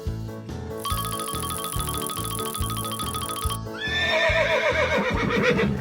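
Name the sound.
horse neighing, from a toy animal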